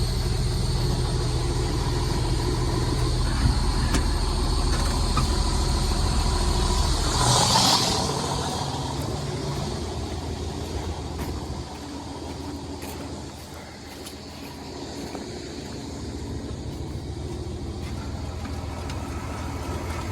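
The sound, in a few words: slurry tanker macerator running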